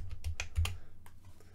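A password is typed on a keyboard while a Raspberry Pi 4 is set up, a quick run of about six close key clicks followed by quieter taps, alone without talk.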